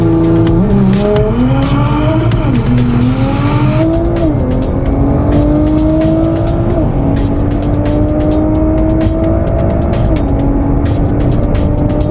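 A high-horsepower race car at Racewars 2014 roars loudly and close, its engine pitch rising and falling through gear changes before settling into a sustained high drone, with tire noise and no talking.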